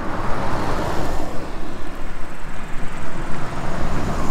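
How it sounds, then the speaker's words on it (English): A car driving along a road in Kanagawa, Japan, fills the clip with steady, loud broadband rumble and road roar from inside or just beside the moving vehicle, with no talking. "It's a little bit noisy with the car is driving"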